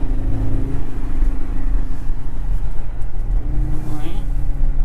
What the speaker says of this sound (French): Donc c'est un moteur 5 cylindres turbo.